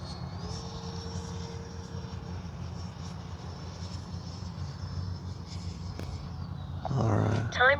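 A HobbyKing Flycat V2 RC jet makes a low pass, a steady whining engine drone held across the stretch that swells slightly, with people talking briefly near the end.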